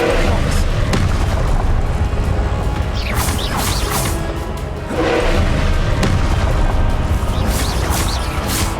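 Loud spell-casting combat in the Hogwarts Legacy video game: an Expelliarmus spell among dense, repeated booms, crashes and heavy impacts, with a brief dip in the middle.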